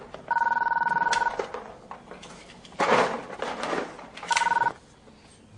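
A telephone bell rings in two loud, close bursts at breakfast in a French police drama, with a short clatter of something handled between the rings and no voices.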